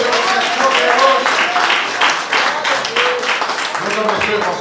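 Church congregation at a Thursday worship service applauds, with dense, sustained clapping from many hands mixed with voices and cheering throughout.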